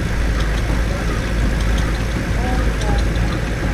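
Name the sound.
large Ruston Lincoln stationary engine running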